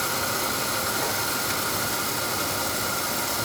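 An oil boiler burner runs steadily in a basement, a constant broadband roaring hiss like rushing air and flame, fairly quiet and unchanging, with no talk.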